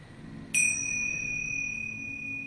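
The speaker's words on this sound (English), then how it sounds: "I'm going to ring the chimes one time." A single bright chime strikes once, then rings on with a clear sustained tone that slowly fades away.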